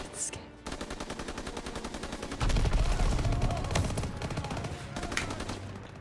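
Rapid machine-gun fire and rifle shots rattle close and loud in a Call of Duty: WWII battle, with a dense burst of impacts and a heavy low rumble swelling midway through, and voices faintly mixed beneath the combat.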